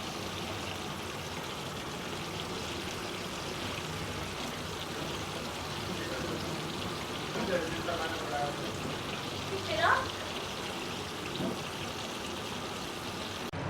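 KFC-style chicken wings deep fry in oil, giving a steady bubbling hiss like running water, with a couple of brief louder surges midway.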